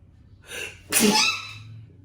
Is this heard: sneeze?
yes